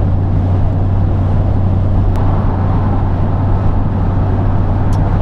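A smoothly idling engine fitted with a muffler, quieter than an older indirect-injection diesel, holds a steady, even low hum throughout with no talking.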